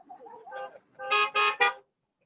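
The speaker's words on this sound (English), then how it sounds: "Honk if you're ready. I could use a few more honks." Three short car horn honks sound in quick succession, loud and close, following a few fainter, lower toots.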